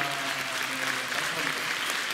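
A theatre audience at a musical talk event applauds its staff. Dense, even clapping continues steadily through the short stretch with no pauses, close and full, with faint speech underneath.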